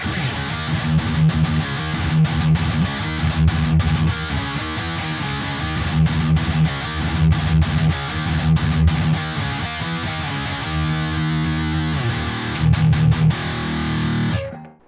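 Electric guitar through a $39 distortion pedal with the bias set near 2 o'clock, playing a dense, continuous riff with rhythmic chugging and choppy accents, loud and up front for about fifteen seconds before a brief ring-out.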